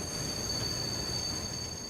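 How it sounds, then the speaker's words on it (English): Rapid Train 5418M runs along the line near Takarazuka Station, giving a steady, dense rumble of rolling wheels with a faint high whine held over it, continuous and unbroken for the whole moment. "Driven by Takami, Rapid Train 5418M runs a red light outside Takarazuka Station."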